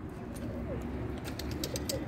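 Pigeons cooing softly inside a pigeon coop in Istanbul, with low steady coos and a few faint chirps layered over a continuous murmur of birds.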